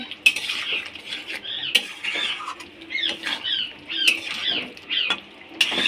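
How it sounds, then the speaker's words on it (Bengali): Pointed gourd and potato curry being stirred in a pan, repeated metal spoon clinks and scrapes against the pan with soft wet squelching between them, close and clear with no talking. "কিছুক্ষণ নেড়ে নেব"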